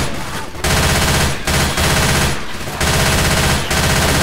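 Heavy automatic gunfire from the video game Left 4 Dead 2, loud and continuous in long bursts with short breaks between them, and no talk over it.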